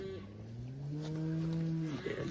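A cow lets out one long, fairly loud moo that slides slightly in pitch, outdoors where cattle graze on acorns under trees, over steady background hiss.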